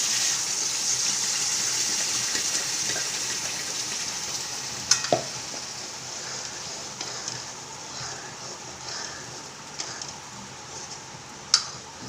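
Masala sizzling steadily in hot oil in a pan while gawar bean curry is being prepared, a broad continuous hiss with a few sharp clicks and taps of a utensil, close and fairly loud, with no speech.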